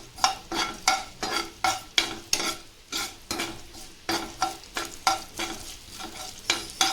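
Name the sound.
frying cumin, fenugreek and mustard seeds in a pan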